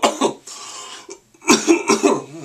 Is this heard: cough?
yes